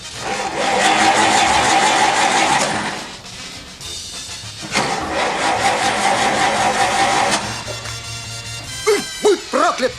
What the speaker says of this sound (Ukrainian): Автомобіль, на якому їздив водій Едік, це довоєнне шасі з кустарно виконаним кузовом